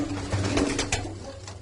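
Pigeons coo in a home loft, with soft, low repeated cooing notes close by. A few faint rustles sit in the background.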